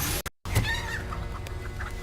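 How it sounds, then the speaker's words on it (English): Chicken clucking in the video game Hogwarts Legacy, a few short clucks after a brief cutout, heard over continuous game background sound. "Did I just nuke a chicken?"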